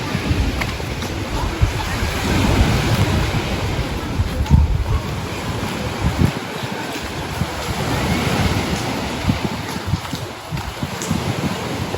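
Steady surf crashing and washing in on an Aegean beach, with gusty wind buffeting the microphone throughout; no voices.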